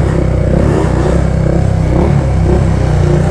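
Honda CB 300 motorcycle engine with a seized piston, running with a steady rough, clattering drone held close and loud throughout, without any talk.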